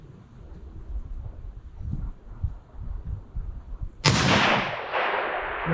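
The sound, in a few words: 300 Win Mag sniper rifle shot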